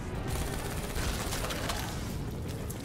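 Loud, dense blasts and crackling gunfire from a Call of Duty Zombies match on the Der Eisendrache map, a steady wall of explosive noise that fills the whole moment with no one speaking.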